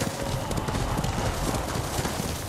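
A horse's hooves beat in a steady galloping clip-clop across open ground in Ghost of Tsushima, a rapid rhythmic pounding that stays loud and close throughout, mixed with some rustling ambience.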